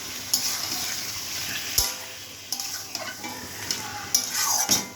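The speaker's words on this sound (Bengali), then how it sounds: "চিকেনটা দিয়ে দিচ্ছি, তারপর নুন দিয়ে ঢাকা দিয়ে দেবো" Chicken pieces frying in a pan with browned onions, steady sizzle broken by scraping stirs and sharp clinks of a utensil against the pan, close and alone with no talk.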